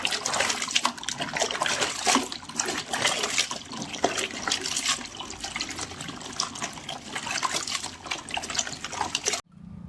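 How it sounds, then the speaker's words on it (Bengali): Long strips of freshly cut mango are washed in water while making mango pickle, with steady splashing and trickling that runs continuously for nearly ten seconds before stopping abruptly, close and fairly loud, with no talk. "এবার আমগুলোকে আমি ভালো করে জলে দিয়ে ধুয়ে নেব।"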